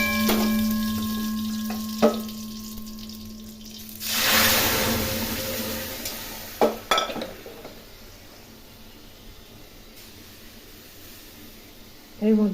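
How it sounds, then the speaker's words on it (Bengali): Boiled masoor dal poured into a kadai of hot oil with fried black cumin and dried red chillies, a sudden sizzling rush that fades into a soft simmer, with a few metallic clinks of utensils. "কড়াই তেল গরম করে কালো জিরে শুকনো লঙ্কা ভেজে নিয়ে এর মধ্যে ডালগুলো ঢেলে দেবো।"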